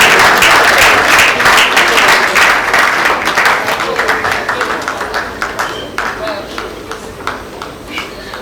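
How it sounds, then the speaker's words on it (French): Award ceremony audience applauding loudly and close, a dense burst of clapping that thins into scattered individual claps over several seconds, with a voice talking underneath. "Vous l'applaudissez très fort."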